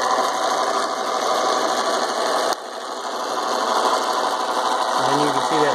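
A roughly 100-year-old key cutting machine runs steadily with a continuous mechanical whir and buzz, briefly dipping midway before resuming, close and fairly loud throughout.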